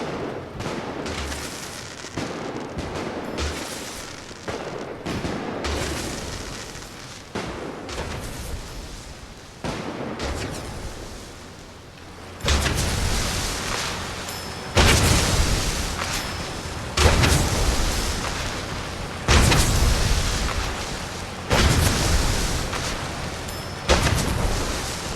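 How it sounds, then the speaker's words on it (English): Fireworks bursting in Fallout 4, a long barrage of loud booms and crackling volleys in repeated waves, growing heavier and denser in the second half. "Here we go, fireworks."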